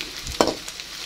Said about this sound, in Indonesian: Saya goreng tempenya setengah dulu ya, karena tempenya lumayan banyak.